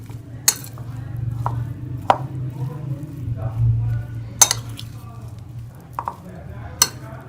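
Chaat ingredients are tossed together with green chillies and tomatoes in a bowl, making scattered clinks and sharp taps of a metal spoon at irregular intervals over a low background hum, close and fairly loud.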